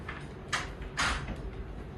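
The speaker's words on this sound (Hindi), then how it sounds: "बंद कर दे दरवाजा" A door shut at close range, with two quick knocking thuds about half a second apart, then faint background noise and no speech.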